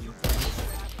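A sniper rifle headshot in Fortnite, one loud, sharp shot with a booming low-end thump that rings out and fades over about a second, with no voice over it.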